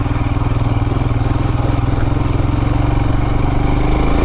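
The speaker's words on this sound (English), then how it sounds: "one of the reasons I wanted this particular motorcycle was it has so much low-end torque" Royal Enfield Himalayan motorcycle engine pulling steadily on a dirt trail, a loud, even single-cylinder thump that continues throughout with no talking.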